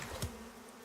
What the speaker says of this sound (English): Come here, bees.